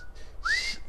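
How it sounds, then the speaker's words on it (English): A single short whistle rises in pitch and holds briefly, clear and fairly close, with no talking. "you hear that person whistling?"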